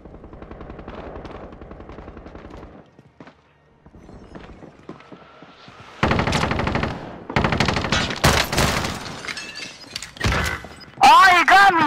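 Gunfire in a video game, starting with quieter distant shots, then loud, close bursts of rapid firing and sharp blasts in quick clusters, with game effects and intermittent talk mixed in.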